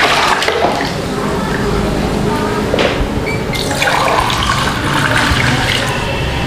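Water poured from a drinking glass into a container of JSW Halo wall paint, a steady broadband splashing and trickling running throughout at close range.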